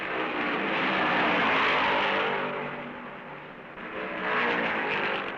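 1970 NASCAR stock cars, among them a high-wing Dodge Daytona and a Mercury Cyclone, roar past at Darlington in two broad swelling passes, loud and blurred by distance, with no voices.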